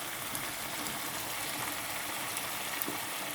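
Julienned white and red onions with peppers go into a pan of frying liver, producing a steady, even hiss of sizzling that keeps going without a break, with no talking.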